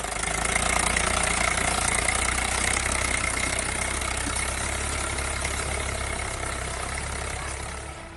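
A tractor engine drones steadily while driving over a standing cabbage crop in a field in Samastipur, Bihar, a constant mid-low rumble that eases off slightly at the end, with no voices.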